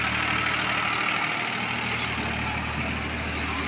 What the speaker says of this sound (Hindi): बहुत बढ़िया रोटावेटर चला रहा है,